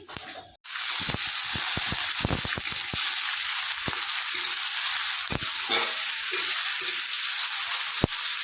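Chopped ginger sizzling in hot oil with whole cardamom and cloves, a loud continuous frying hiss broken by scattered clicks and scraping stirs, with no one speaking.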